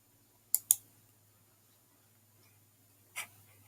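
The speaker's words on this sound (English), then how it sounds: "I'm just going to right click and click Inspect." Mouse clicks on a computer: a quick double click near the start, then after a quiet pause a single click, crisp and close over faint background hum.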